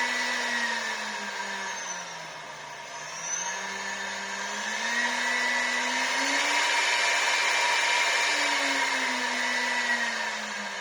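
A CNC spindle driven by a frequency inverter hums steadily at close range, its motor whine sliding slowly down and back up in pitch as the inverter frequency is changed, with no voices.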